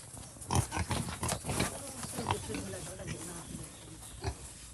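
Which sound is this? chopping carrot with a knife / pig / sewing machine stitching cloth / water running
pig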